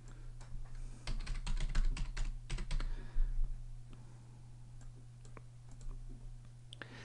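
Rapid keystrokes on a computer keyboard as a password is entered, a dense burst of clicking taps in the first few seconds thinning to scattered single presses over a steady low electrical hum.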